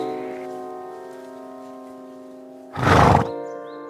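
A 22-year-old horse at a draft horse rescue gives a sustained tonal neigh, followed by a short loud breathy snort, close and clear with no talking.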